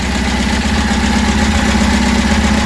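A Reliant Supervan 3 engine idles after an idle screw adjustment, running as a steady, even rumble with a fine regular beat, loud and close throughout, with no voices.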